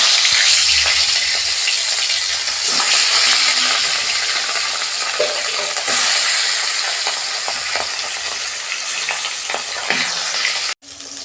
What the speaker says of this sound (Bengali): মাছগুলো ভেজে নিচ্ছি।